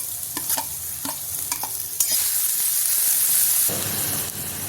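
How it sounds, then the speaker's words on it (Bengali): Chopped onion frying with garlic in a pan sizzles loudly and close, with repeated scraping stirs early on, then a sustained hissing sizzle. "রসুনটা হালকা ভাজা হয়ে গেছে, আমি পেঁয়াজ কেটে রেখেছি দিয়ে দিচ্ছি।"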